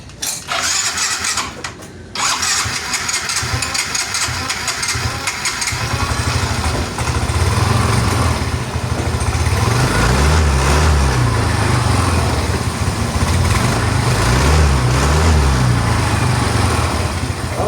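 A Yamaha Mio i 125 scooter engine with a noisy CVT cranks and catches after a brief pause, then settles into a loud, steady running drone with slight rhythmic rises in pitch.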